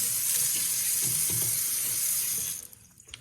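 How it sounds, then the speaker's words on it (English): Water runs steadily from a Kohler chrome kitchen faucet into a drop-in stainless steel sink, a loud even hiss that cuts off near the end, leaving quiet room tone. "You have a Kohler chrome faucet."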